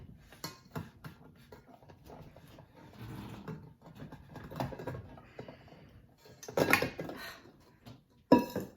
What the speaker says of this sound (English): Just had to fight my KitchenAid over giving me my bowl back.